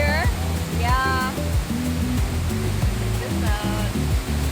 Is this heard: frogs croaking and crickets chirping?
no